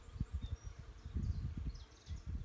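Low insect buzzing from bees hovering close by around laurel flower spikes, rising and falling in irregular bursts, with faint rustling and a distant bird or two.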